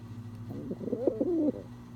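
A blind pigeon coos softly in the sun, a low throaty warbling series of burbling notes close by that swells and then stops, with a steady low background hum.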